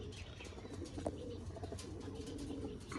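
Racing pigeons of a home-bred strain coo softly at a loft, with low, steady murmuring and scattered light chirps against a constant background hum.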